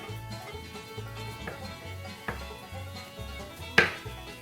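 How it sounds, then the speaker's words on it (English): A knife cuts a potato into slices on a cutting board, several separate sharp knocks spaced a second or so apart, close and clear, with one louder final chop. "take the potato, cut it in like 3 slices or so"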